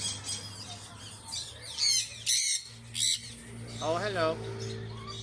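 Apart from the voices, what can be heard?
many birds squawking in an aviary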